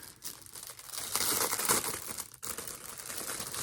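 Crinkling of plastic wrapping as individually wrapped hangers are unpacked, a close, loud rustling and crackling that builds and continues in uneven bursts.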